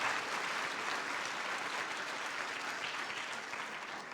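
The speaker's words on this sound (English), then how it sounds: "So yeah, let's clap on that." Audience applause at an education advocacy award ceremony, a dense, even roar of clapping from a roomful of people, sustained and fairly distant.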